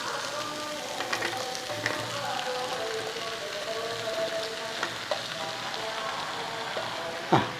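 Breadfruit pieces drop into a pan of tomato curry and sizzle steadily with soft crackles and a few stirring clicks, a sharp clatter near the end.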